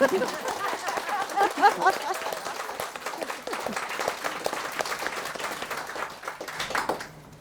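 Audience applause for a panel at a contemporary jewelry artists' event, steady dense clapping from a crowd lasting about seven seconds before it fades.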